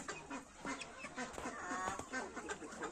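A flock of domestic birds calls nearby, overlapping clucks, quacks and honks in a steady, lively chatter.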